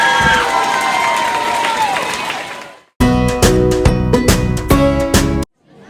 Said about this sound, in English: let's give Mrs. Doherty's homeroom class a big round of applause